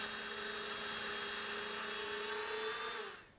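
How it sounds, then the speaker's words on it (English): A Triton doweling joiner drilling dowel holes gives a steady, high-pitched whine that runs nearly constantly, then spins down at the end as the motor is released. "Start the tool and plunge the bits in all the way to the depth stop."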